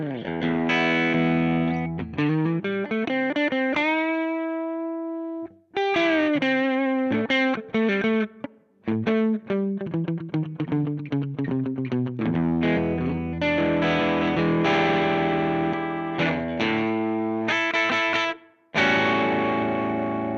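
Red electric guitar with Wilkinson P90 pickups playing rhythm parts through distortion: strummed chords and sustained notes in phrases, broken by a few brief pauses, with no voice.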